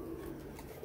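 Low, soft cooing from a pigeon, kamangar pigeons kept on a Lahore rooftop, a brief faint murmur heard up close.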